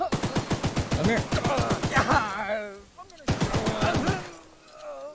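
Rapid automatic gunfire rattles out in Choo Choo Charles, a fast string of sharp close shots, a brief pause, then another burst, loud and dry with ringing tails.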